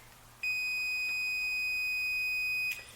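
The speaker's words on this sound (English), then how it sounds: "the alarm should sound, indicating continuity or indicating that current is able to flow through that switch." A multimeter's continuity alarm sounds as one loud, close, unbroken high tone for about two seconds across the cold thermal switch of a steam mop, then cuts off, with no talking.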